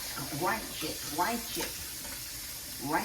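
Water runs from a sink tap in bursts as a frying pan is rinsed out before eggs are cooked in it, with short splashing surges under a quiet room tone.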